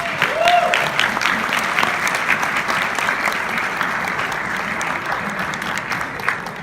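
Steady audience applause fills a convention hall in Bangkok, dense clapping holding at an even level throughout with a brief voice near the start.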